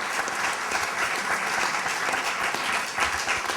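Audience applause at a talk on food systems, steady and full throughout, a dense crowd clapping with no speech over it.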